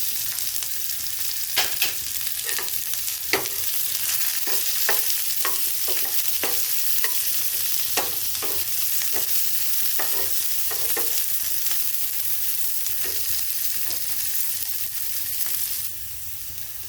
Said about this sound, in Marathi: तर आपण कांद्याला थोडासा परतून घेणार आहे नरम पडेपर्यंत।